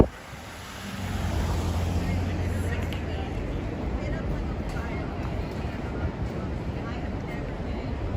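Steady wind buffets the microphone on a New York City street at night in a low, continuous rumble that persists throughout.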